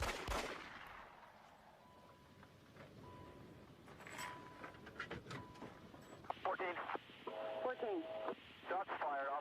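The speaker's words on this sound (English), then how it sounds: "Shots fired." Gunfire erupts during a tense police traffic stop involving a suspected gas thief, with sharp broadband cracks and bursts scattered through the clip, followed by radio chatter and voices.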